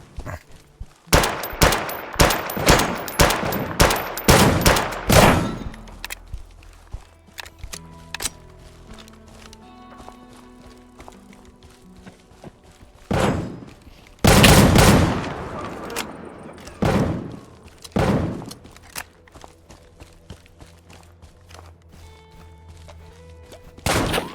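Shotgun fire in the survival shooter DeadSide comes as a rapid run of loud, close blasts early on, then a gap with scattered rustling, followed by more heavy shots spaced a second or two apart.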